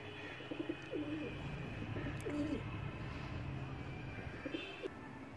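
A breeder pair of pigeons in a loft coos softly in repeated low phrases, faint and fairly close, with steady background hum.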